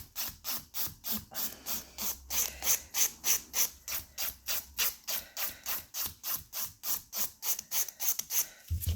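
Acrylic nails are filed with quick, even back-and-forth strokes, roughly three rasping passes per second, close and steady throughout with no voices.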